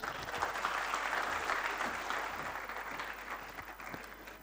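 Sustained applause from a conference audience at a foundation luminary event, thick and steady from the start, tapering slightly toward the end with no speech over it.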